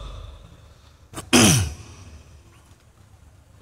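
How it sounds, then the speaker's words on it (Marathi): A man at a public rally clears his throat once in a single harsh, close rasp with a brief lead-in, then only quiet room murmur follows. "आज संध्याकाळपासून मला माहित नाही काहीतरी खोकला सुरू झाला मला."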